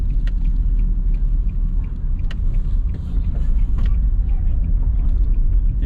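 Car driving at night or day through the residential community of Duhaney Park in Kingston, Jamaica, with a steady loud engine and road rumble throughout, a few faint knocks and rattles over it.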